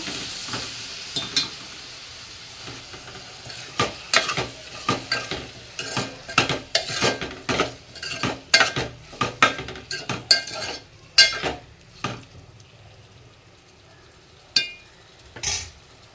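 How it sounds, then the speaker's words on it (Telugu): Tomato pieces are stirred in a pan with a spoon for tomato rasam, giving a series of sharp metallic scrapes and clinks in uneven bursts over a faint sizzle, with quieter pauses between strokes. "టమాటా ముక్కలు వేద్దామండి వేసి ఇదంతా కలుపుకోవాలి"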